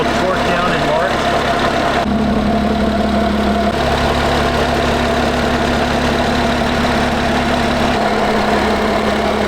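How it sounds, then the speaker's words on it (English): Lotus Evora 400 with a mid-rear engine, idling in a steady, continuous drone heard up close with no change in pitch. "Look at the engine underneath here. So it's a mid-rear engine."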